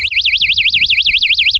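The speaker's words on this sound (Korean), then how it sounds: "이 경보기 소리는 굉장히 크기 때문에 도난 걱정은 하실 필요가 없고요" A smartphone-linked bicycle anti-theft lock alarm blares a loud, rapidly warbling electronic siren tone, sweeping up and down about eight times before cutting off abruptly.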